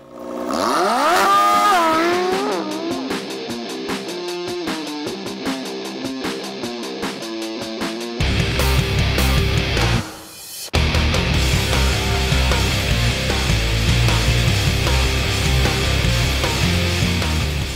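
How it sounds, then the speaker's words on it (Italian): An Alfa Romeo 4C sports car on the Balocco test track revs hard and shifts through gears, its loud engine rising and falling, with a brief dip before another sustained pull. "Ed eccoci qui a fare un giro sulla pista di Balocco questa nuova Alfa Romeo 4C"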